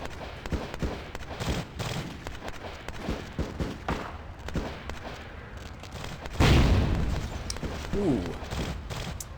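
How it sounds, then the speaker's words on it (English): A single deep, booming explosion bursts loudly in the video game Vampire: The Masquerade Bloodlines. It comes after a stretch of scattered thumps and clatter, and a voice briefly speaks afterward. "There was an explosion that just happened right there."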